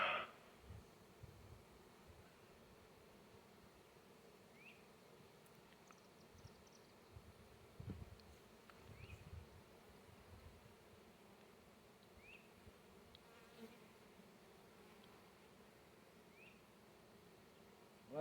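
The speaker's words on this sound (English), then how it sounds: "A lot of bees." Large honey bee swarm buzzing around a nuc hive box outdoors, a continuous faint hum of many wings with occasional closer fly-bys and light handling noises.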